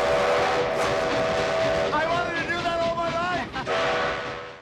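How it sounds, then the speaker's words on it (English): A steam train whistle sounds in wavering, sliding blasts over a dense rumble of noise, with voices mixed in underneath. "the train whistle was blown there too"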